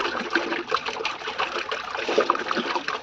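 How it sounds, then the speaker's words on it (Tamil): Water sloshing and splashing continuously as a white shirt is shaken around in it while being washed, a steady wet agitation with irregular splatters, fairly close. "தண்ணியில் எடுத்து ஷேக் பண்றோம்"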